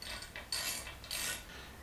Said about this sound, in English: I'm just going to go ahead and grab a wrench here and give this a turn and see what it does.